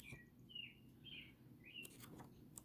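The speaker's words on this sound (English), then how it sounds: "Can you hear the birds?" Birds chirp outdoors, a few faint, thin, high tweets in short separate bursts heard from a distance over quiet room tone.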